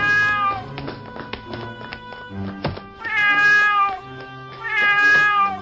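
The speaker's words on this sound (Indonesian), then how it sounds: "Astaga, kucing siapa ini?" A cat meows repeatedly, with drawn-out, wavering cries that rise and fall, mixed with light taps and thumps nearby, loud and close with no talking.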